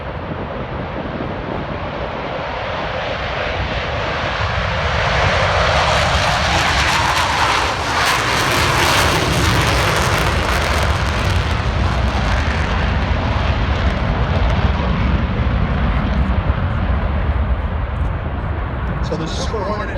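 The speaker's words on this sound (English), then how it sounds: "So the Super Hornet makes a lot more noise the last couple of years" A Super Hornet jet passes at an airshow, a huge broadband engine roar that swells and peaks midway and stays loud, with people talking under the noise.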